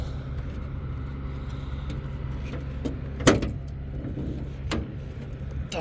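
The hood of a 1972 Ford Mustang Sprint is opened at a car show: a sharp latch clunk, then a second lighter click a moment later, over a steady low background hum.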